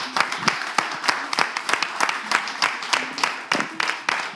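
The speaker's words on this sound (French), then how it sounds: "Est-ce qu'on peut applaudir et raccompagner Monsieur Gounou, s'il vous plaît?" At a Togocom promotional event in Togo, an audience claps in loose, scattered bursts, individual hand claps standing out sharply with voices mixed in underneath.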